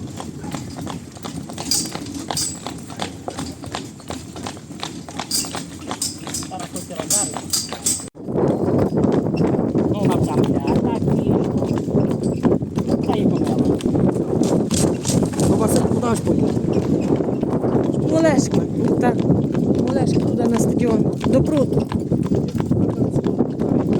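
Rapid hooves of a Breton mare clip-clop in a steady rhythm, growing louder and denser after a few seconds as she picks up pace, with wind noise throughout.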